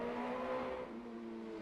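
Racing motorcycle qualifying at the Macau Grand Prix street circuit, its engine wailing high, then dropping in pitch partway through as it shifts gear, close and loud.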